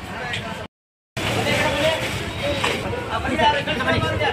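A crowd of shoppers outside a D-Mart store makes a steady hubbub of chatter and street noise, broken by a short dropout near the start, with a nearby voice talking over it.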